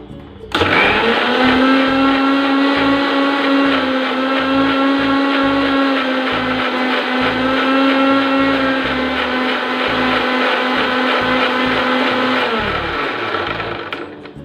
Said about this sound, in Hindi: ब्लेंड कर दूँगी।